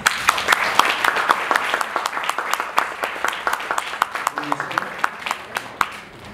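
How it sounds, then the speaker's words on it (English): A modest audience at a China marketing event claps for a business guest. The clapping is sparse and uneven, with separate sharp claps standing out over a light bed of hands and a few faint voices. "a round of applause for Han Bing"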